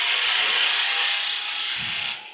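Wood is being cut while a small Christmas tree is carved and turned from a wooden blank, a loud, steady, high-pitched grinding whine from a power tool that runs for about two seconds and then stops.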